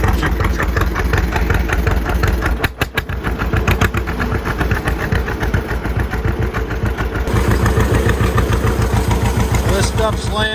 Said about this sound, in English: The old John Deere's a ground pounder.